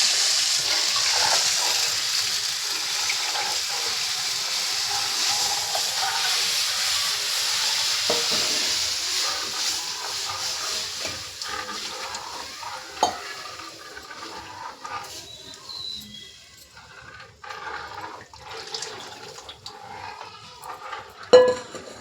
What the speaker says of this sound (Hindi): छाछ को एक हाथ से डालेंगे भाई और एक हाथ से चलाएंगे, जो कि ये फट ना जाए